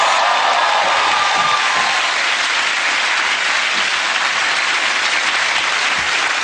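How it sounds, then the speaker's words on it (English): A comedy club audience at a ventriloquist show gives loud, continuous applause, a dense steady wash of clapping that holds at full strength throughout. "Walk this way, and the audience will go mad with applause."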